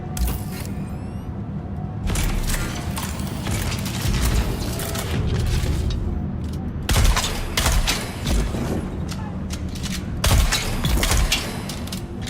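Rapid bursts of gunfire in the desert survival game Dune Awakening, sharp repeated shots with mechanical clatter, starting around two seconds and returning in dense clusters, loud and close.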